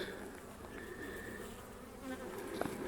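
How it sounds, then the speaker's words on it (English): A dense swarm of bees buzzes continuously, a steady droning hum with no pauses, moderately close. "Oh, that's a lot of bees."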